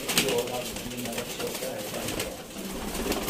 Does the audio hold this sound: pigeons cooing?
yes